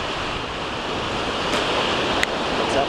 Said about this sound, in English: A lot of waves here.